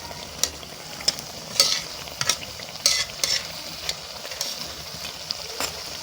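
Pakoras for kadhi fry in hot ghee with a close, steady sizzle, broken by repeated crackling bursts and stirring clatters every half second or so.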